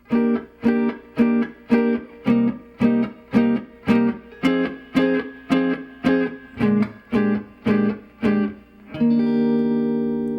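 An electric guitar strums a 1-6-2-5 jazz chord progression in short rhythmic bursts, changing harmony every few strums, then lets a final chord ring out sustained.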